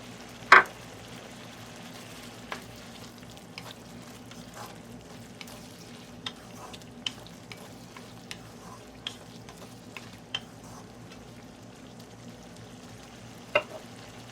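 Mushrooms cooking in butter with chili, black pepper and salt give a faint, steady sizzle in a pan, broken by a few sharp clicks and taps, with one louder knock near the start and another near the end.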